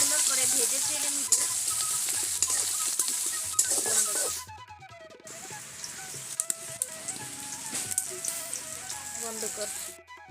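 Onions sizzling in oil in a wok over a stove, a steady crackling fry that drops briefly midway and then resumes, with some voices in the background.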